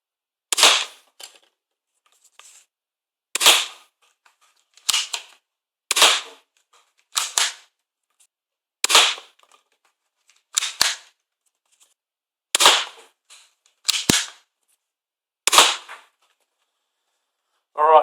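A Nerf Star Lord Quad Blaster fires elite darts from its topmost barrel, giving about a dozen sharp, close pops spaced a second or two apart against a quiet background with no talk.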